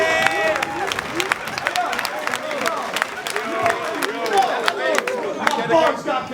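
A rap battle audience claps and cheers in a loud, steady burst of applause, with crowd voices and shouting mixed through it.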